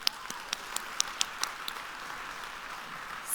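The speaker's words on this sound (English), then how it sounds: "Round of applause for that, please." A conference audience at a food justice summit claps, giving a faint, thin patter of scattered hand claps that fades out within a few seconds.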